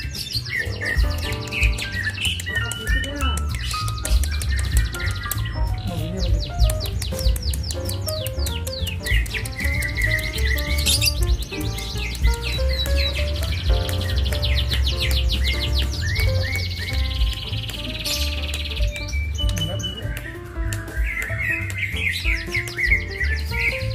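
Songbirds at a bird singing contest in Kampung Bugis, Tarakan, pour out dense, overlapping chirps and trills nonstop, loud and close, with a low crowd murmur underneath.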